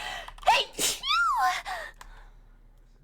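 A single loud sneeze bursts out near the mic, preceded by a sharp inhaled gasp, with a short spoken word just before it.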